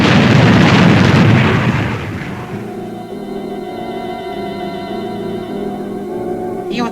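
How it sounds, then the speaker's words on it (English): Retro rockets fire on a spaceship in the Fireball XL5 episode Invasion Earth, a loud roaring blast that settles into a sustained rumble layered with pulsing electronic tones, ending in a sharp burst. "Fire retros."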